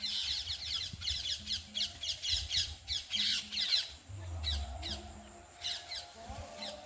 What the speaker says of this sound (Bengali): এক ঝাঁক টিয়া পাখি কিন্তু বিকালবেলা কিচিরমিচির করতে করতে খোলা আকাশে উঠছে